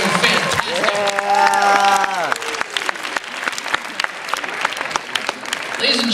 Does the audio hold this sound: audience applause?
yes